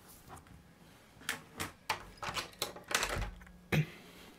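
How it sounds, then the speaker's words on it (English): An indoor door is pushed shut in a series of soft knocks, creaks and shuffles, ending with a firmer latch-like thud, all fairly quiet and close. "let me close the door before you come back in"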